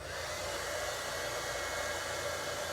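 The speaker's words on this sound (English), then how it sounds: "it's really important to let your heat tool heat up because this is vellum" An embossing heat tool runs steadily while warming up for work on vellum, a constant close blowing whoosh with a faint whine and no change in level throughout.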